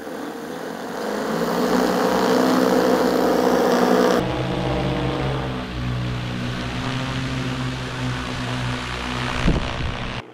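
A heavy-lift drone hauling a 40 kg load on a high-altitude drop drones steadily at close range, its loud rotor hum holding throughout and shifting tone partway through, with no talking.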